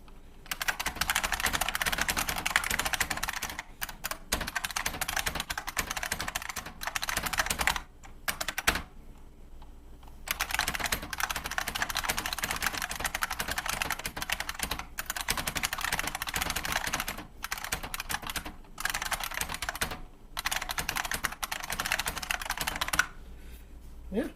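Steady typing on a Unicomp Ultra Classic 103-key buckling spring keyboard, a loud run of clicky keystrokes close up that goes on with only a few brief pauses.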